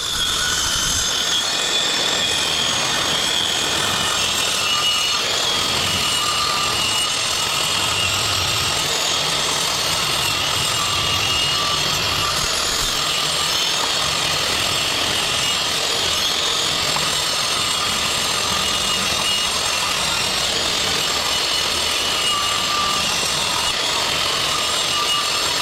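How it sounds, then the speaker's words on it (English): A power saw cutting Trex composite decking boards for a backyard viewing deck, giving a continuous, loud, close whine and grind that runs unbroken with no talking. "don't forget to set your saw blade to the proper depth"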